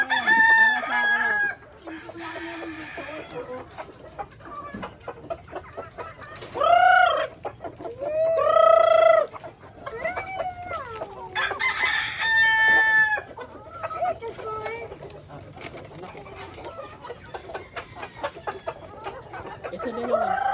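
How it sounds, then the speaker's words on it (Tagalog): Chickens cluck, squawk and crow loudly and close by while scrambling and fighting over food at an overnight stay in Antipolo, with overlapping calls throughout. "Galing di pag-alagawan ng manok."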